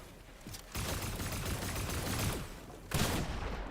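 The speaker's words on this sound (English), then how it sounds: "Taking lots of gunshots from above." Dense bursts of video game gunfire, rapid overlapping shots forming a sustained barrage that surges louder toward the end, with no talking.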